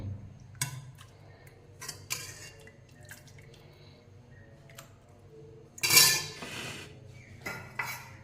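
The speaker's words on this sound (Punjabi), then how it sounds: "ਇਹਨੂੰ ਆਪਾਂ ਕੋਲੀ ਵਿੱਚ ਪਾ ਲਾਂਗੇ" A spoon clinks and scrapes against a pot and bowl as home-style shahi paneer is served, with sparse sharp metallic taps spread over a quiet background and one louder clatter near the end.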